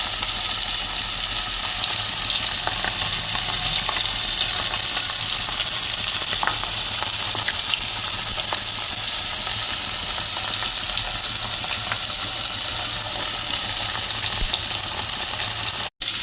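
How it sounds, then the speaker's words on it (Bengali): Pieces of katla fish fry in hot oil, a loud, steady crackling sizzle that runs unbroken and close, with no voices over it. "এইভাবে ভালো করে লাল লাল করে মাছগুলোকে আমি ভেজে তুলে নেব।"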